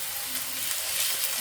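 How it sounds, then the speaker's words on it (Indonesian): Onion and garlic sautéing in ghee and oil for nasi kebuli give off a steady, bright sizzle that holds loud and close without pause. "bombay dan bawang putih, kemudian tumis sampai harum"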